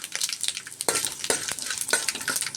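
Urad dal and Byadagi chillies frying in a pan, a close, busy sizzle with stirring scrapes and small clinks throughout, no talk.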